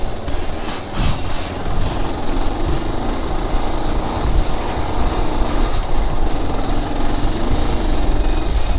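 A tractor rumbles past on a road with a heavy, rattling engine drone, loud and steady throughout, with no talk.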